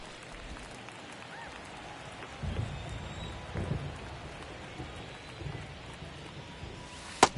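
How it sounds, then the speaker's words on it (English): Steady rain falls during a baseball game in MLB The Show 23, a continuous hiss with soft low thumps of crowd or thunder and a brief sharp crack near the end. "This rain is not letting up."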